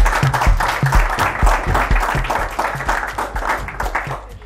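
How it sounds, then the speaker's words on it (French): A studio audience at a televised game show applauds loudly and steadily, dense clapping filling the whole few seconds up close. "Les amis, on commence par applaudir très très fort."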